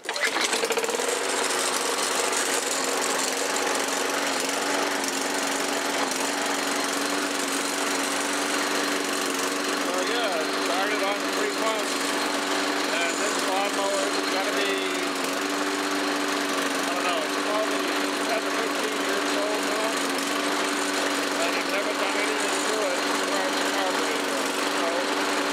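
A 16-year-old lawn mower engine, started cold on three primer pumps, runs at a steady, loud, close-up drone with a constant buzzing hum for the whole stretch and no talking over it.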